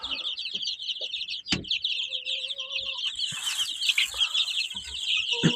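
Young farmyard chicks cheep and cluck steadily as they peck at scattered cottage cheese indoors, their busy chatter continuous and close with a few soft knocks underneath.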